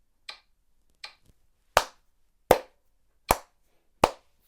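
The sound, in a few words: metronome at 80 beats per minute with clapping along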